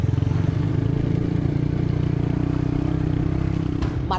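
Motorcycles carrying rescuers along a rough road where a 4x4 could no longer pass, a steady close engine drone with rattling and clatter throughout.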